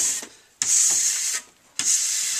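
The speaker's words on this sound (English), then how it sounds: "take some fiber techs, and again, just buffing that ski basically from tip to tail" Steady brisk rubbing of a Fibertex pad along the base of a cross-country skate ski, three long hissing strokes tip to tail with short pauses between, close and alone.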